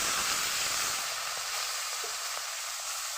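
Water poured into a pan of frying masala with taro and katla fish head, a loud hissing sizzle at first that quickly settles into a softer, steady bubbling steam.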